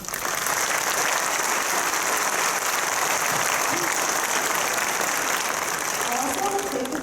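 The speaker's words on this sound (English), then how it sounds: "I think that deserves a round of applause." Graduation ceremony audience at James M Bennett giving a long, dense round of applause, a loud continuous roar of clapping with a few faint voices mixed in.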